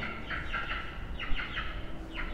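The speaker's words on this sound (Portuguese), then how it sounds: "o Charlie está espantando a galinha que você ganhou da Tia Nelly, que insiste em entrar em casa." A hen clucks and squawks in repeated short bursts as she is shooed out of a house, the calls fairly close over a noisy indoor background, with no talking.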